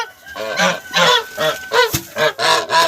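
A goose honks repeatedly in loud, nasal bursts, about eight calls in a steady, close rhythm with short gaps between them.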